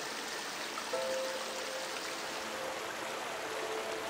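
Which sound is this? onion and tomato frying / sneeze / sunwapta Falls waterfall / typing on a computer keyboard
sunwapta Falls waterfall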